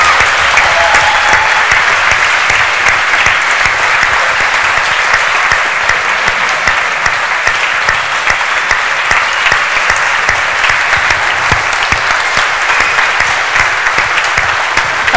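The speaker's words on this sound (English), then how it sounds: "Big round of applause for Tim Vine." Loud, sustained audience applause at the Cambridge Union after a comedy talk, a dense wall of clapping from a full hall holding steady for the whole stretch.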